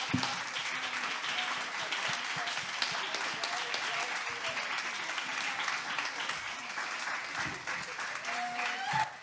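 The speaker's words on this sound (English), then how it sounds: "Can we give a big, big round of applause?" Sustained audience applause fills a room after a panel discussion at a Texas Capitol event, a dense, steady wash of clapping that holds for the full stretch with faint voices mixed underneath.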